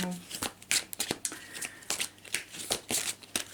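Tarot cards are shuffled for a Gemini reading in a rapid run of crisp riffling bursts, close and distinct, while a voice is heard alongside.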